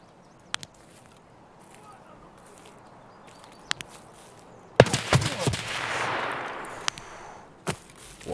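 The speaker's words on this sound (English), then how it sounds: "Those are some suppressed shots." Suppressed RSASS rifle shots in the video game Escape From Tarkov, a few sharp muffled cracks spaced apart and then a tight cluster of rapid shots, moderately loud over a quiet background.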